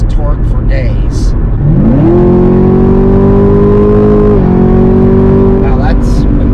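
A Chevrolet Camaro ZL1 revving hard as it accelerates, its engine note climbing loud and close, then a quick gear shift drops the pitch before it pulls again, with road and wind noise underneath.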